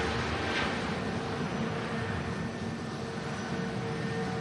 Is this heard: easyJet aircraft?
yes